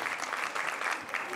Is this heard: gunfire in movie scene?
no